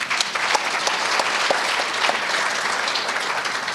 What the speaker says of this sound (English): I think we should give the sponsors and the organizers a round of applause